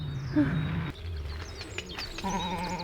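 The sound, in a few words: sheep bleating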